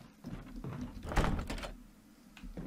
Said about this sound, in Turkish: Kapı açılmayı reddediyor.